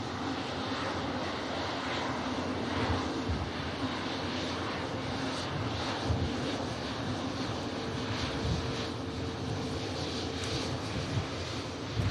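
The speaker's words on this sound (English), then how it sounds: "Virgin Atlantic A350 heading out to Orlando." A Virgin Atlantic Airbus A350 taxis out at Manchester Airport, its jet engines giving a steady, broad roar that holds at an even level throughout, with faint background rumble.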